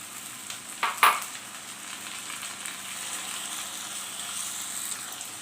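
Tomatoes added to garlic ginger paste sizzle in a hot pan for dhaba-style mash ki daal, a soft steady frying hiss after a couple of brief clinks and splashes as they go in.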